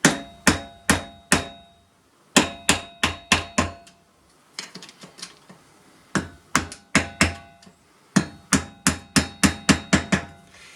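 Hammer strikes on a Suzuki GN300 motorcycle rear sprocket resting on a table, loud and close, coming in quick runs of sharp ringing blows separated by short pauses.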